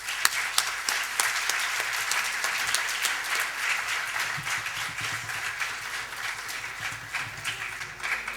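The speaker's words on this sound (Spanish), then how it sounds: "Recibamos con un caluroso aplauso al profesor Ricardo Santander Baeza" An audience welcomes a mathematics professor at an academic event with warm applause, many hands clapping steadily and fairly loud for about eight seconds, with no talk over it.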